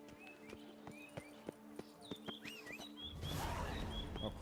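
Clip-clop of the horse Roach's hooves in The Witcher 3, a regular run of distinct hoof strikes with birds chirping in the background, giving way to a louder rushing wash near the end.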